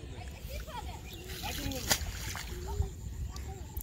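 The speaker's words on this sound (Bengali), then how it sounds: "নৌকা চলে যাচ্ছে।" A boat moves through water on a village waterway near rice fields, with soft splashing and sloshing heard under nearby people talking.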